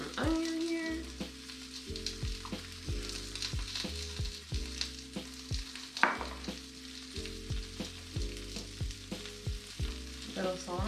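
Onion fries in a pan for birria tacos, a steady sizzle with periodic stirring scrapes, while a sustained musical tone plays underneath throughout.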